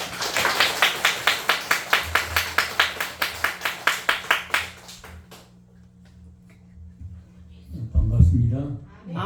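Church congregation applauding to welcome a guest pastor, a rhythmic round of clapping in steady unison beats that fades out after a few seconds, followed by a voice at the microphone.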